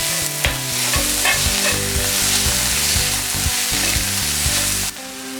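Chicken masala and chopped tomato sautéing in a pan for Kerala chicken puttu: loud, close sizzling with brisk repeated spoon scrapes and knocks against the pan, ending with a brief quieter moment.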